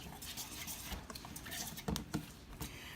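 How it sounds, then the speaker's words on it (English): Vinegar being whisked into a kimchi paste in a bowl: quick, close scraping and tapping strokes in an uneven rhythm, with a few louder knocks against the bowl. "I'm just going to kind of whisk that all up, get that mixed in to almost a paste"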